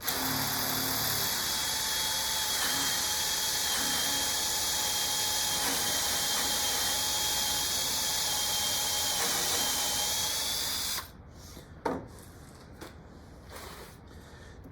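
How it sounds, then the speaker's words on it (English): A power drill with a 5/16 bit bores a hole into wood, giving a loud, steady whine that runs for about eleven seconds, then stops abruptly, followed by a few faint clicks and handling knocks. "we want to make sure that we get this second hole drilled deep enough so that our bolt has enough room to go past"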